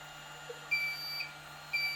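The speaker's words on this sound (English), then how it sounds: "When you turn the laminator on, you will get a beep" Two short, high electronic beeps about a second apart from an ALM 3230 laminator starting up, over a steady low mechanical hum.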